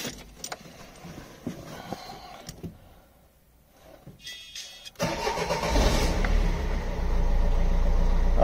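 After a few faint clicks and keys jangling, a car engine cranks and catches at about five seconds, then settles into a steady, fairly loud idle close by during a battery disconnect relay test.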